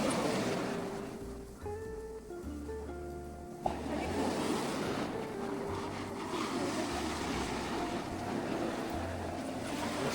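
Ocean surf rolls onto the beach at Pondicherry, a steady broad wash of breaking waves heard up close and continuous, with a faint motor hum and some tonal background sounds mixed in during the first few seconds.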